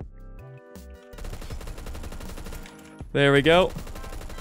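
An FAL 50.60 para rifle fires in Phantom Forces, a few sharp shots early on followed by a loud, quick burst near the end, over steady game background with someone speaking briefly.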